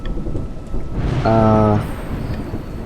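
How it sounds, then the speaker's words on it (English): Rain and thunder in the platformer game A Juggler's Tale: steady rain hiss throughout, with a louder rumbling swell near the middle carrying a bright tonal chime over it. "You seem surprised that rain comes from the heavens."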